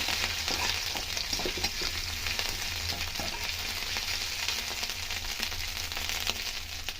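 Grated ginger fries with cumin seeds in hot oil for a semolina and potato snack, a loud continuous sizzle with light stirring scrapes throughout.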